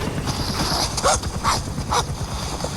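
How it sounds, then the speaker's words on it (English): A dog in a desert setting whimpers and yips in a few short, close bursts over steady background clatter, with no talking. "That dog is a pain in the ass."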